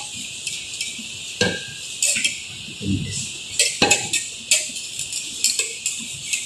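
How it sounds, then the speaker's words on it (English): A spoon clinks and scrapes against a pot or bowl while heavy cream is stirred into a panna cotta mixture, making light, irregular metallic taps close by. "As you add it on, you gotta gently stir it so you can incorporate the whole thing together"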